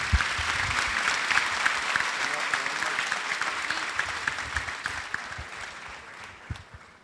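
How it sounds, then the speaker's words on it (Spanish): A crowd at a government event in Colombia applauds a demobilized former combatant in the presence of the president; dense, lively clapping that slowly fades toward the end. "darle un aplauso por el"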